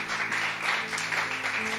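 A church congregation breaks into brief applause, a short burst of clapping over a faint sustained musical tone in the background.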